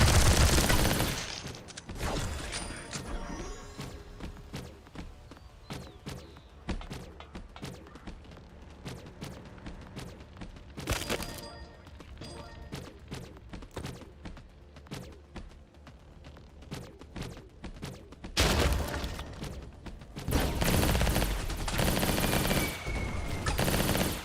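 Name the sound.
missiles and gunfire in Skillshot City video game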